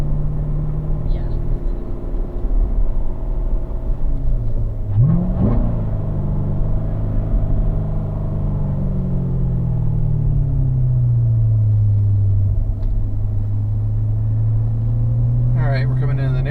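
A 2015 Corvette engine rumbles low and steady with rising and falling revs as it drives, a continuous close drone beneath ongoing talk from people in the car.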